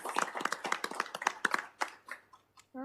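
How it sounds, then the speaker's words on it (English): A small group claps briskly at a city council meeting, a quick burst of individual hand claps that thins out and stops within a few seconds. "let's give a round of applause"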